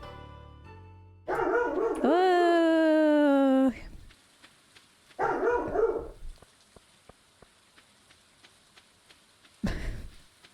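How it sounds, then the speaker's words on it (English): A dog barking in the farming video game Stardew Valley, a couple of short bursts among game music tones and faint ambient sounds, moderately loud. "Oh, he's barking again."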